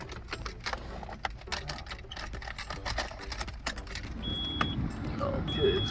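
Keys jangle and click as the ignition of a 1999 Nissan Sentra is switched on, a close, busy rattle of small metallic taps with a low steady hum underneath.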